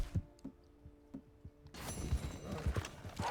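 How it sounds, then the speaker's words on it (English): Horses clip-clop in Red Dead Redemption 2, a buckskin pony among them, their hooves falling in an uneven rhythm that is faint at first, then joined by louder rustling and denser hoofbeats close by. "Ponies! I love that buckskin one."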